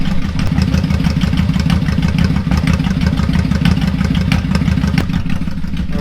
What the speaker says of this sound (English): Found the idle screw on the other side. So you kind of idle it up just a little bit.